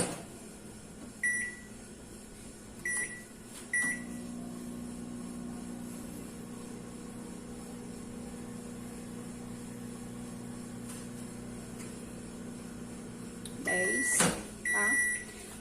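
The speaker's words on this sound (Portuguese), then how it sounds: "o micro-ondas ele começa a agir de dentro para fora" A microwave oven hums steadily while melting chocolate, a low continuous drone broken by a few short beeps at the start and end, with a door clunk near the close.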